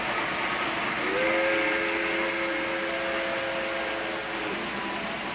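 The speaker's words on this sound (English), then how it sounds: "We have old steam trains." A model railroad steam train whistle sounds a single sustained multi-tone blast for about three seconds over a steady hiss of layout background noise.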